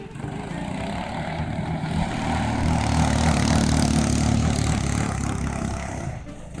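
A Predator small engine powers a Vankart go-kart, running steadily with a loud, continuous drone that swells slightly in the middle and holds up close throughout.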